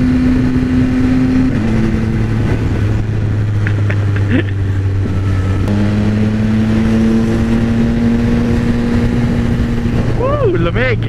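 A Yamaha XSR900 motorcycle's exhaust drones loudly in a tunnel, its steady engine tone shifting pitch as it revs and holds across the ride, with nearby engine noise underneath.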